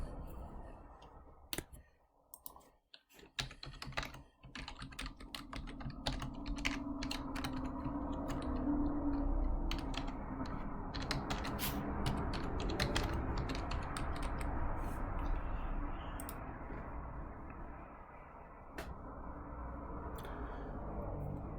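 Rapid, uneven typing clicks on a computer keyboard close by, in bursts with short pauses, over a low steady background hum.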